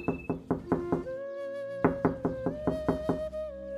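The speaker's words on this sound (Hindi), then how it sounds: "तभी कुछ समय बाद दरवाजे पर खटखटाने की आवाज आती है।" Someone knocks on a door in a Hindi cartoon, two quick sets of crisp raps, each a run of about five knocks, separated by a short pause over a soft musical tone.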